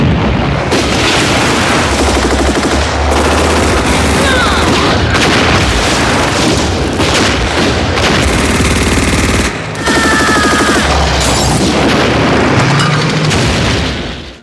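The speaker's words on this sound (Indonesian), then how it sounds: "Lalu pasukan Jerman mengawali pertempuran dengan tembakan anti-tank." Heavy anti-tank and machine-gun fire in a Stalingrad battle as German troops engage Soviet T-34 tanks: loud, dense, continuous bursts and booms over a constant battle roar, with a brief dip near the middle.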